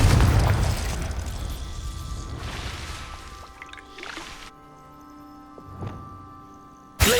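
Confringo spell explosion in the Hogwarts Legacy video game, a loud booming blast at the start that rolls off into crackling and a sustained tonal hum, then a smaller pop and a final sharp burst.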